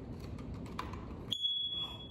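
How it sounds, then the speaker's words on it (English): A household smoke alarm gives a single loud, piercing electronic beep that starts abruptly and holds steady to the end, following a stretch of low background noise. "Wow, that was a really loud beep."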